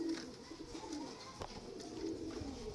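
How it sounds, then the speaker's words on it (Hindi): Breeding pigeons of a bloodline line cooing in a loft, soft low repeated coos close by over a steady background hum, with no talking. "मियाँ नज़ीर साहब वाले कबूतर।"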